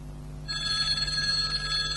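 A telephone rings indoors, a steady electronic bell tone that starts after a brief pause and continues through the rest of the short moment, fairly close and clear.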